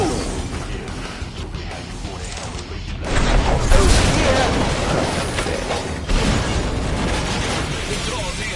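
Booming explosions and crashing debris from a city battle in Final Fantasy XV, loud and sustained, with a heavier blast surging partway through over rumbling, mechanical clatter and occasional voices.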